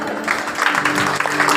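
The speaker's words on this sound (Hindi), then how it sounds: "जोरदार तालियां श्रद्धा के लिए" Audience at a stage program in Bahrain clapping, a dense, even patter of many hands holding steady throughout.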